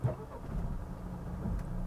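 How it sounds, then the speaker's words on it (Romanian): Renault Kadjar 1.6 dCi diesel with X-Tronic gearbox restarting via stop-start: a brief, soft crank and catch, then a low, steady idle heard quietly from inside the car. "Motorul a repornit."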